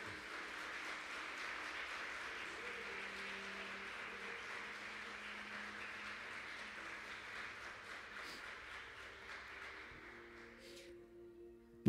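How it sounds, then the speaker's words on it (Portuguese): A church congregation applauds in a sustained wash of clapping that stays fairly even, then fades toward the end, heard from a distance at modest loudness. "Quem crê, aplauda ao Senhor Jesus."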